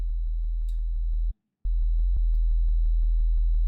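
A low, steady sine wave sub bass from a Serum synthesizer with rhythmic pulses, briefly cutting out in the middle before resuming, loud and alone.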